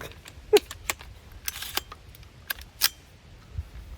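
A Desert Tech Quattro-15 rifle bolt is locked back, heard as a handful of sharp metallic clicks and clacks spread over a few seconds, close and fairly quiet with faint handling noise between them.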